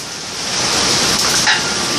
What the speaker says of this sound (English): he told you that it's raining today